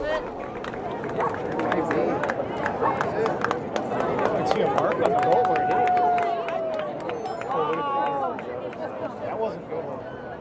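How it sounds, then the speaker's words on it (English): A crowd at the launch of the warship Cleveland (LCS-31) makes a dense, sustained roar of cheering, screaming and chatter, with scattered hesitant clapping and a rising whistle-like tone in the middle. "a combination of cheers and screams and hesitant applause and whispered comments"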